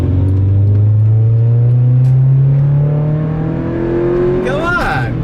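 A Honda Integra engine revs hard and rises steadily, its loud intake roar up front and the exhaust kept quiet; the note climbs in pitch over several seconds and then drops off at a gear change.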